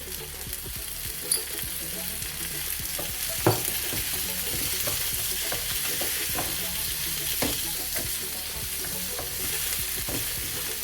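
Small sweet peppers sizzle in a pan while being stirred, a steady crackle of frying broken by occasional scraping clicks and utensil knocks, close and moderately loud, with no talking.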